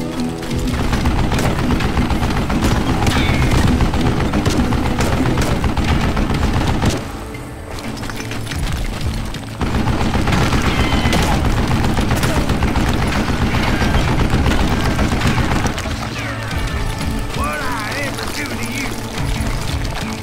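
Rapid, dense gunfire from the Western shooter game Call of Juarez: Gunslinger rattles almost continuously, loud and close with brief lulls, while a narrator speaks over the shooting.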